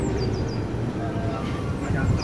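Rumbling and rattling of the Runaway Mine Train roller coaster at Alton Towers, a steady loud roar of cars on the track with high squealing wheels and voices mixed in.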